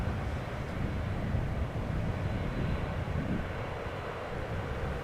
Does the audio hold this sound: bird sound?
no